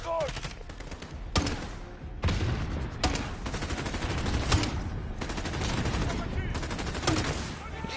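Rapid gunfire and heavy explosive bursts from a grenade launcher in the Call of Duty Modern Warfare video game, a loud, dense, continuous barrage with sharp cracks throughout and a voice briefly under the din.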